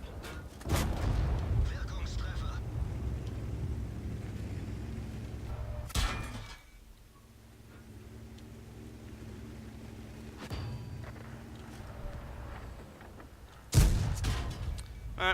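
Tank guns fire in World of Tanks: three heavy, booming blasts spaced several seconds apart, loud against a steady low rumble of engine and game ambience.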